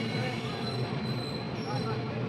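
A train at Visakhapatnam station, with a continuous loud metallic squeal and rumble of rail wheels and steady mechanical noise throughout, no clear voices.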